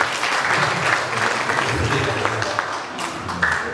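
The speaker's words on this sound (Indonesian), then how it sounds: "sekarang kita tepuk tangan buat Pak Barlianto." An audience at a guest lecture breaks into sustained applause, a dense wash of clapping hands that stays strong for the whole stretch, with faint voices underneath.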